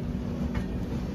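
The East Coast Express, train 18046 from Hyderabad to Shalimar, runs along the track with a steady, even rumble and low hum throughout a brief stretch, with no voices.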